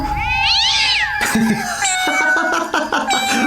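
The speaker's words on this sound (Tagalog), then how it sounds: "Pusa lang pala" A cat meows loudly and close by in a long, rising and falling cry, followed by shorter yowling calls with some background noise.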